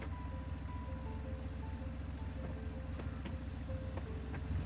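A tractor in the farming game Farming Simulator 22 drives along with a steady low diesel rumble. Faint tonal beeps and clicks from the game sit over the engine, and no one speaks.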